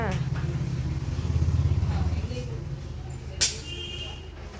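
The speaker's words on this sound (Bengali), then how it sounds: "এত ঠান্ডার মধ্যে বরমশাই বাইক নিয়ে বেরিয়ে পড়লো।" A motorcycle sets off on a cold day, its engine a low steady rumble at moderate distance, with a sharp clack near the end.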